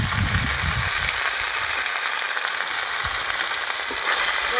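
Shol and lata fish from a pond sizzle and crackle steadily as they are stirred and fried in a little oil, a close, continuous frying hiss with soft scraping under it.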